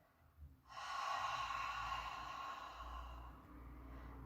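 A forceful exhale during an arm pushing exercise in a corridor, one long breathy blow lasting several seconds that tails off slowly, heard close and alone.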